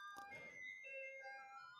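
A bell-like electronic chime plays a short melodic jingle of sustained tones, faint and steady, with no talking over it.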